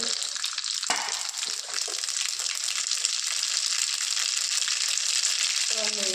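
Mustard seeds crackle and sizzle in hot oil in a home kitchen, a loud steady frying hiss with popping, and a brief clatter near the start.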